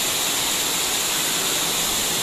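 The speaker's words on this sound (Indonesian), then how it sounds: "kita bisa saksikan sahabat sama-sama para tamu yang berfoto di air terjun Cepung." Cepung waterfall pours in a steady, dense rush of falling water, constant and enveloping, with no voices over it.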